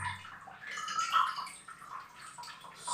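Water keeps running and trickling into a toilet in an abandoned house, a soft, steady splash and gurgle with no voices over it.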